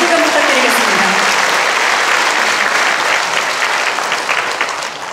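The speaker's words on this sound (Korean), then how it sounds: "다녀오실 때 뜨거운 박수 다시금 부탁드리겠습니다" Sustained, dense applause from a crowd of citizens at a town-hall dialogue marking a Korean mayor's first year in office. It is loud and steady, with a voice briefly audible at the start, and eases off slightly near the end.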